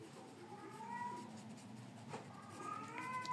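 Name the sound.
cat meowing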